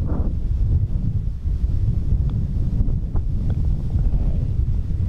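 Steady gusting wind on a golf course buffets the microphone with a low, rumbling roar that swells and eases throughout, no voices present.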